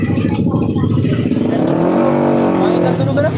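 A motorcycle engine revs up with a rising whine, heard close while a person talks over it, likening the noise to a saw.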